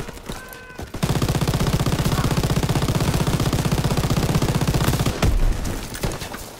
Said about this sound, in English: Someone get on the MG!